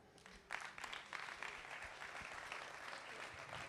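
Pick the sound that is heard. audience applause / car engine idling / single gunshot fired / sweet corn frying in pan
audience applause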